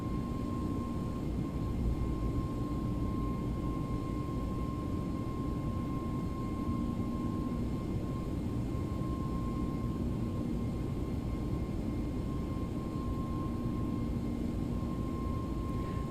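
A ToLiss A321 NEO airliner cruises at about flight level 310 in X-Plane 11, giving a steady, even cabin drone with a constant faint whine on top and no talking.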